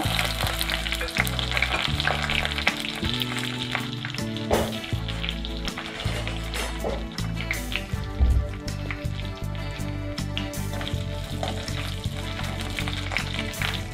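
Steady, loud sizzling of dried red chilies and curry leaves frying in hot oil, with crackles and pops throughout and occasional stirring clatter.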